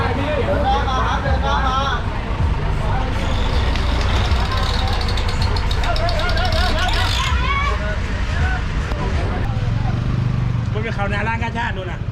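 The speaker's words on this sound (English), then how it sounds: "That truck is trying to fit through a space that's way too small for it." A truck squeezing through a narrow street in Korat, Thailand, its engine droning steadily amid a busy street hubbub with several people talking and chattering nearby throughout.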